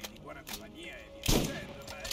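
A unique pump shotgun in Borderlands fires one heavy, sharp blast partway through, surrounded by quieter game ambience and faint effects.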